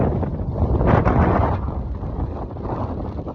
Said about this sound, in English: Windy up here at the minute.